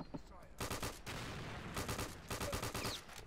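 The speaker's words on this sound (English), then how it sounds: "that was a grenade being thrown at me" A grenade blast in Return to Castle Wolfenstein, loud bursts of gunfire and booming explosions crowding together in rapid, dense waves throughout.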